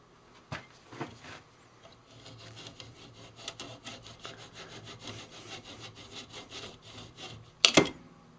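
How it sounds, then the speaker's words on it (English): Hand sawing through a small wooden tenon at the base of a turned natural-edge candy dish, steady back-and-forth rasping strokes close up, ending with a louder knock as the piece comes free. "and then just saw it off by hand"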